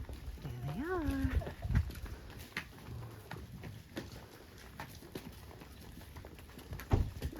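Cows are moved between pastures along a rural path near O'Cebreiro, with scattered hoof clops on the ground, a brief low call, and people talking nearby outdoors.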